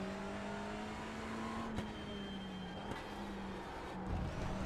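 Race cars, among them an Audi, lapping Brands Hatch in a VR racing game, engines holding a steady droning tone with shifts in pitch, fairly quiet, with no talk.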